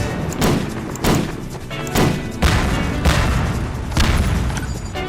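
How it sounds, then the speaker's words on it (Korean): Junkrat's bombs explode one after another in Garry's Mod, a series of about six loud, sharp blasts roughly a second apart, each followed by a short rumbling decay, with no talking. "정클의 다른 폭탄 원본이랑은 달리 조금 빨리 터지는 감이 있네요"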